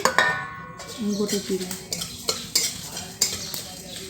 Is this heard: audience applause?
no